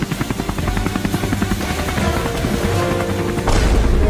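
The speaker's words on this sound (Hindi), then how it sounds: "मुझे भी हेलीकॉप्टर में बैठा लो।" A helicopter's steady, loud rotor chop with heavy low thumping, growing a little louder toward the end, with no voices over it.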